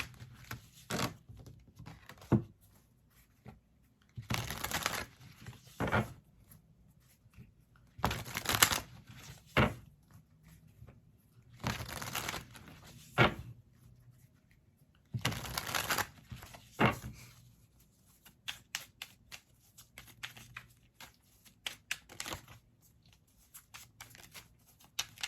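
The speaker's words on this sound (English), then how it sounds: "So next we'll just pull some oracle cards" Oracle cards being shuffled and pulled, in repeated bursts of crisp riffling and soft card slaps separated by quiet pauses, close up and fairly faint, with no talking.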